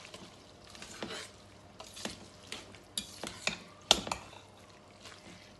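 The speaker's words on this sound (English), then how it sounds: "I'm going to stir it now." Spaghetti sauce being stirred in a pot with a utensil, producing faint scraping and clinking strokes in an irregular rhythm over a quiet sizzling background; no talking.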